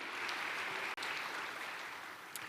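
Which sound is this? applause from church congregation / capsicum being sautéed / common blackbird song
applause from church congregation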